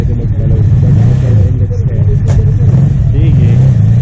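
A motorcycle engine idles steadily up close with a low, continuous rumble, while people talk nearby over it.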